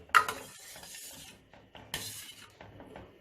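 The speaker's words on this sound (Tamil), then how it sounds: "இப்போ நான் பருப்பை ஊற்றிருக்கேன் ஒரு கலர் கலர்றேன் பாருங்கள்" A spoon scrapes and clinks against a pot of lentils for sambar in two bursts, with soft stirring and gentle bubbling between them.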